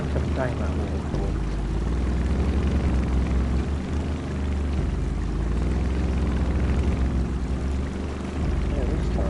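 In the SnowRunner video game, a truck's engine drones steadily as it descends a waterfall, blended with rushing water, while a voice talks over the game sound.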